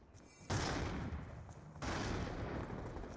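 Machine gun fire in Black Ops II multiplayer, two dense bursts of rapid rattling shots, loud and close, each a sustained roar lasting over a second.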